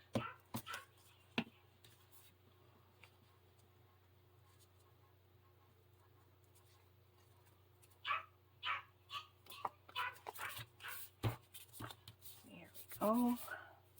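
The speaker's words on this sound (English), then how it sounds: "I will be right back to settle these dogs down." Dogs barking indoors in the distance: a few short sharp barks early on, then a busier burst of repeated barks toward the end over a steady low hum, fairly faint.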